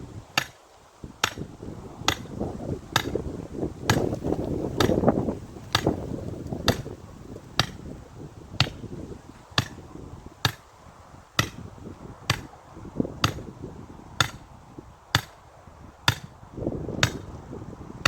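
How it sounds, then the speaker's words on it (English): A stake is hammered into garden soil with a long, steady series of evenly spaced sharp strikes, about one per second, close and distinct, over a low rumbling outdoor background. "then you can actually hammer."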